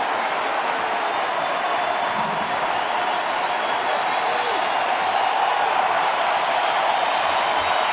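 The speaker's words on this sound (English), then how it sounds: "And here comes the crowd." Steady roar of a baseball stadium crowd at a Kansas City at Detroit game, a dense continuous wash of cheering and noise throughout.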